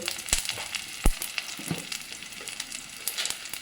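Red chilli and shallots crackle in hot oil for a Kerala pumpkin thoran, a close, even sizzle broken by a few sharp pops and light spoon clicks against the pan, with no talking.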